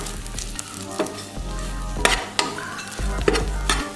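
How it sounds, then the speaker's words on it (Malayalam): Bread halwa sizzles in ghee in a pan while being stirred, with a steady frying hiss broken by sharp scraping and clinking strokes of the spoon and a low hum underneath. "കുറച്ച് നെയ്യ് ഇടുക, നന്നായി ഇളക്കുക."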